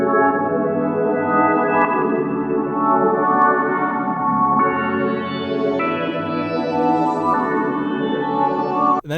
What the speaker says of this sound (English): we have this Analog Lab 4 kind of pad